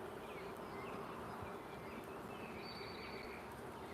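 Honeybees buzz faintly and steadily around an open hive during an inspection, a soft continuous drone with occasional higher whines from individual bees passing near.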